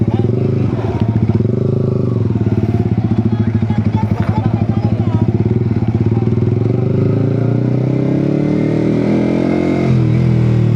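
A motorcycle engine rumbles steadily at close range near a market, with a pulsing idle that shifts into a smoother drone, while a person speaks over it.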